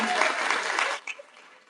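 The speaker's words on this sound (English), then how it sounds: "Huge round of applause, everyone." Graduation ceremony audience at Gandhinagar University applauding, a dense burst of clapping from a large crowd that cuts off after a second, leaving scattered faint claps trailing away.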